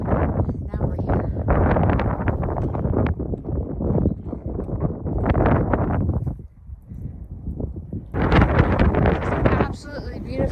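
Strong wind buffets the microphone on a mountain viewpoint along the Appalachian Trail, loud gusting roars that dip briefly partway through, with a person talking under the wind.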